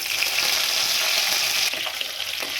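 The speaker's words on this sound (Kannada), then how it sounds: "ಸೊಪ್ಪು ಹಾಕಿ ಒಂದು ಎರಡು ನಿಮಿಷ ಫ್ರೈ ಮಾಡೋಣ" Steady hot-oil sizzle of dried and green chillies and curry leaves frying for tomato rice, close and even, with a light stir near the end and no talk.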